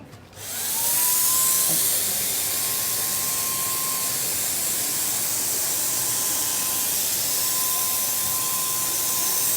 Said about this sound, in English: So I'm just going to spray it nice and slow, a little small corner here.